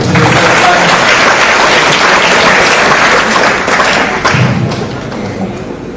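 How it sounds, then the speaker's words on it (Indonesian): An audience applauds for a speaker at a dean candidate election forum: steady, close clapping from a crowd that fills the whole stretch and eases slightly near the end. "Saya berikan aplaus kepada Pak Priyo."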